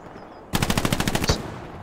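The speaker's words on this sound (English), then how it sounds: "Oh, I got shot from like southwest-ish, I think." A sharp burst of machine-gun fire from Hell Let Loose, roughly a dozen rapid close shots in quick succession after a quiet start, ending with a fading echo.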